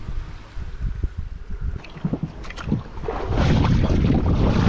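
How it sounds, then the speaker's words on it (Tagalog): Motorboat rumble and water splashing close by on a boat ride to Capones Island, Philippines, with wind buffeting the microphone, rising louder and steadier toward the end. "Sumakay ulit kami ng bangka papunta sa kabilang side ng Capones Island."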